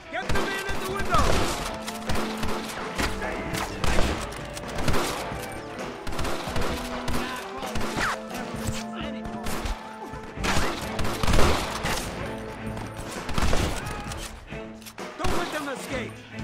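Gunfire in a Red Dead Redemption shootout, rapid overlapping shots and crashes bursting repeatedly under game music and voices shouting orders.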